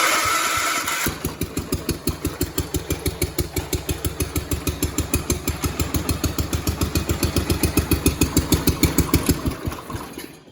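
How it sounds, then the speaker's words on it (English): An older John Deere 300 series closed-frame lawn tractor engine cranks briefly, catches and settles into a loud, steady, rapid chugging idle close by, then shuts down at the end. "you turn the key and you start the engine and you see how the engine sounds"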